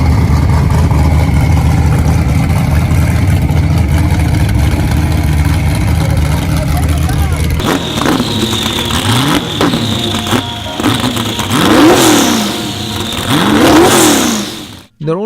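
A twin-turbo V8 Lamborghini Huracan of about 1500 horsepower, idling with a low rumble, then revving repeatedly in loud rising and falling sweeps close by, ending in a sharp cutoff.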